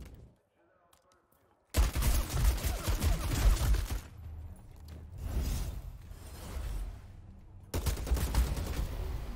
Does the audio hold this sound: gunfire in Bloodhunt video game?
yes